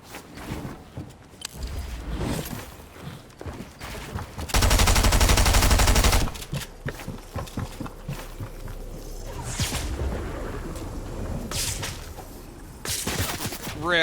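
Shotgun blasts from the video game Fortnite, loud bursts of gunfire with whooshing and footsteps between them, one dense sustained stretch of firing partway through.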